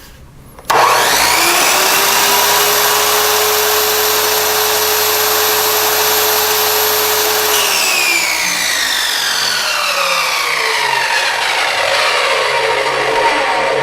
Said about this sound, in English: Let's take a look at the noise level for the Harbor Freight miter.